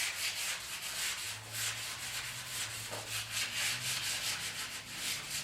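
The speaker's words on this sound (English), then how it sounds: "It's just gonna have to stay on the block. And we're just gonna lightly scuff it up." A sanding block lightly scuffs a painted Chevy K10 truck axle, producing quiet, rhythmic back-and-forth rasping strokes close to the listener, with no voices.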